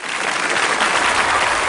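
An audience at a Mappila song stage programme breaks into loud, steady applause, a dense, continuous burst of clapping from many hands with no talk over it.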